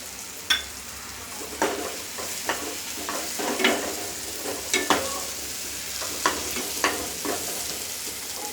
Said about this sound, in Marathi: टोमॅटो ना नरम होईपर्यंत परतत राहायचा